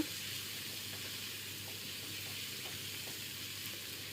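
Food sizzles and crackles steadily in a hot pan, with faint scraping as it is stirred; quiet and continuous, no voices.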